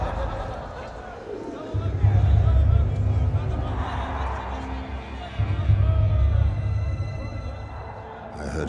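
An angry crowd in a dramatised stoning scene, a low rumbling roar that swells twice and then fades, heard under a narrating voice.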